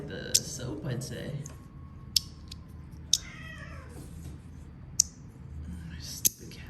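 House cats meowing several times near a fidget toy unboxing, drawn-out meows mixed with sharp clicks and faint whispered talk over a quiet room background.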